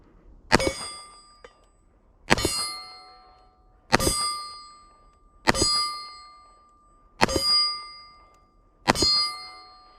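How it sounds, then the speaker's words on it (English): A Tisas 1911 .45 ACP pistol fired one-handed, six evenly spaced sharp shots about every second and a half, each followed by a bright metallic ring as casings clink, loud and close with no talking. "So, 45 ACP, I'm going to shoot with one hand. As we have a shell that lands on me."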